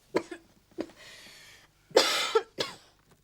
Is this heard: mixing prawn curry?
no